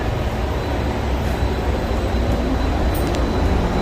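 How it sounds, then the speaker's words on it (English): A Skylink airport train at DFW Airport departs, its steady rumbling roll and faint whine filling the car evenly with no talk heard. "Please hold on. This train is departing."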